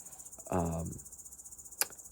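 High, steady cricket trilling pulses through quiet night air, with a brief faint vocal sound and a soft click partway through.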